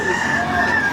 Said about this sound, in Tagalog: Dito nakita ko meron pa silang alaga dito na mga manok.